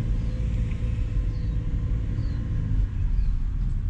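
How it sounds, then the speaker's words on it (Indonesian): A car is reversed and parked on arrival at a historic tourist village in a lush green valley, with a steady low engine rumble and road hum close by, continuous with no voices. "kita parkir dulu mobil"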